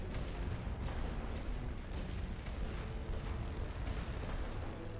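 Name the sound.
artillery barrage firing in The Great War: Western Front video game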